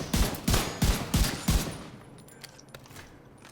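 M1A rifle firing in The Division 2 video game, five sharp, evenly spaced shots about half a second apart, loud and close, followed by quieter ambient game noise.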